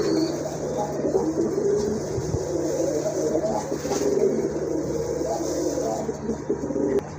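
Pigeons, including a pair of silver-coloured Rajgolla birds with pink beaks, coo softly and repeatedly in a steady low murmur, with faint background hum and no clear talk.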